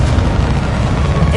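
Brief booming blast of a Bombarda or Confringo spell in Hogwarts Legacy, loud and low with a dense rumbling body.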